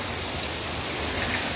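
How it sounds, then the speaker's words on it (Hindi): Heavy rain falling outside a rented house, a steady, dense hiss of downpour close by, constant and unbroken with no voices over it. "ଦେଖନ୍ତୁ ବାହାରି କି ବର୍ଷା"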